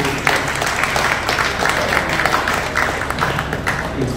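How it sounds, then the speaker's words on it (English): Audience applause fills an art exhibition event for persons with disabilities: steady, dense clapping from a crowd, continuous and fairly loud across the whole stretch. "I think we also should give a round of applause to Elrin, who has been coordinating this."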